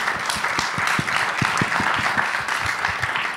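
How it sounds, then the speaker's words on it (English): An audience at a Midem 2018 music industry panel applauds the panelists with continuous, fairly close clapping, scattered sharp individual claps standing out over the crowd's dense patter. "I want to thank our panelists, certainly, if we can give them a round of applause."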